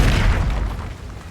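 An Incendio fire spell blast in Hogwarts Legacy, a loud, close, booming burst that fades quickly into a rumbling tail.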